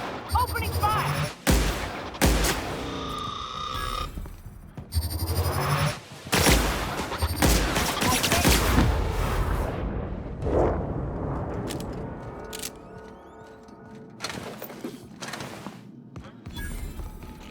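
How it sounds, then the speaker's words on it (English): Repeated bursts of gunfire from the sci-fi video game The Outer Worlds, loud and close, with brief pauses between volleys, along with game effects and character voices in between. "Opening fire!"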